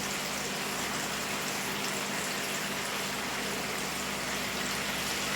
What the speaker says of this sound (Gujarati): તો તમે જોઈ શકો છો કે આપણું પાણી છે તે ઉકળી રહ્યું છે